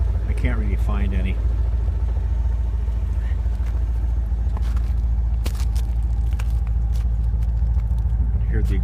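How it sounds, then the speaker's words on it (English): A 1991 Chevrolet Corvette C4 with roughly 120,000 miles on the engine idles with a low, steady exhaust rumble, joined by a few brief clicks and knocks nearby. "Hear the exhaust."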